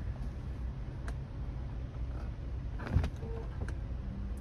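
The power-retracting hardtop roof of a red 2007 Volvo C70 convertible, heard as a faint motor whir with soft mechanical clicks and a louder clunk partway through, over a quiet idle.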